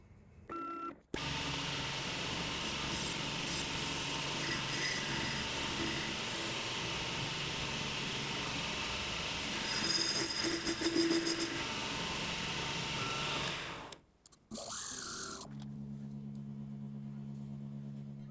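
A milling machine trims the small valve slide bosses on a model steam engine, giving a steady, loud machining drone that starts abruptly, runs for about twelve seconds, stops, then briefly resumes.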